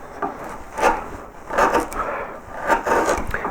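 A hand carving tool gouges into a wooden hare's head, producing close, rhythmic scraping strokes of wood being hollowed out, about five rough cuts in quick succession.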